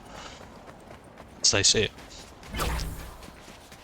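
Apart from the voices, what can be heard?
footsteps of a bot player in Fortnite Zero Build, video game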